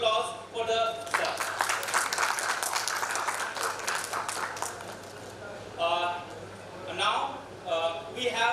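Seminar audience at a chartered accountants' study circle session giving a round of applause, dense clapping that lasts several seconds and then fades, with a speaker talking before and after it.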